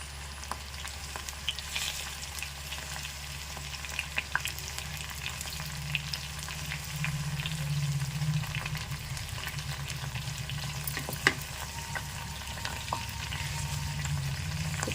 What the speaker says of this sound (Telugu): చూసారా మరుగుతున్నాయి కదా చక్కగా